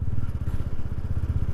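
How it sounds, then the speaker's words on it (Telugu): A TVS Ronin motorcycle rumbles in a steady low, throbbing rhythm while being ridden, with wind buffeting over it and no talk. "ఈ బైక్ సౌండ్, నెక్స్ట్ ఈ విండ్ వాయిస్,"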